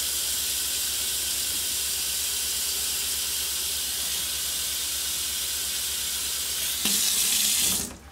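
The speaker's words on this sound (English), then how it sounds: "And I'm filling up the compartment for the clean water." Hot water from a tap runs steadily into the clean-water compartment of a flat squeeze mop bucket, a loud continuous rushing hiss that changes pitch near the end as the compartment fills, then stops.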